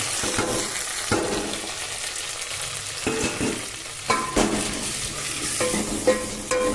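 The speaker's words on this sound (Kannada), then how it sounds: "ಇದು ಚೆನ್ನಾಗಿ ಫ್ರೈ ಆಗಬೇಕು" Tomato and green chilies fry with onion, garlic and curry leaves in a pan for radish sambar, a steady sizzle broken by occasional scraping stirs and spoon clinks.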